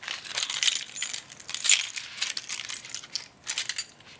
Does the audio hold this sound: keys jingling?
yes